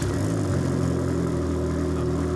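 A car engine idles steadily at close range, a continuous low rumble with a slight whir and no clear starting crank heard.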